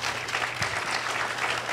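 Audience applause in a lecture hall at the Harvard Kennedy School, a steady wash of clapping that stays dense and even throughout without pause.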